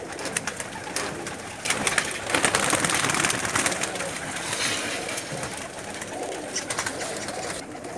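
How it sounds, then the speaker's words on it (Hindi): Pigeons coo steadily and close, a low throaty burbling from several birds at once, with flapping and rustling throughout. "ये कबूतर"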